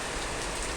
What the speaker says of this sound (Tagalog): Ayan, napakalakas po ng ulan.